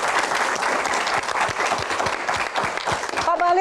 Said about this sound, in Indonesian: Tepuk tangan untuk Pak Bahlil.